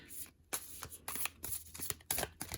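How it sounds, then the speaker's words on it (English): Tarot cards are shuffled close up in a quiet room, a series of soft, quick riffling bursts with brief pauses between them. "Okay, I think I need one more shuffle here."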